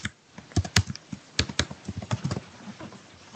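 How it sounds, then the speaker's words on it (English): Rapid typing on a computer keyboard, close and fairly loud, with irregular bursts of key clicks and a few sharper taps, no talking over it. "Oh, look at that wonderful typing."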